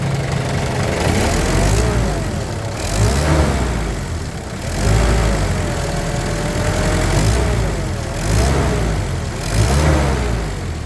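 Close-up of a Mitsubishi Adventure engine with an abnormal noise being revved repeatedly, each rise and fall of the engine note lasting about two seconds over a constant rough mechanical drone.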